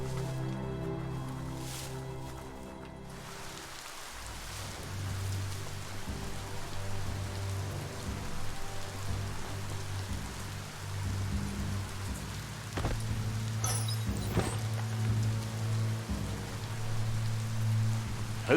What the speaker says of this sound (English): Hope you enjoy the rain.